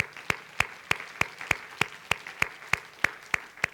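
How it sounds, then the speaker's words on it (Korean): Rhythmic unison clapping from a church congregation glorifying God, about a dozen sharp, evenly spaced claps in a steady beat, moderately loud and close with no talk over it. "우리 한번 영광의 박수로 한번 주님 앞에 돌립시다"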